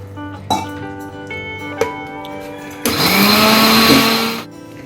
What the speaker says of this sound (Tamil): இப்போ நம்ம தண்ணி ஊற்றி அரைக்கலாங்க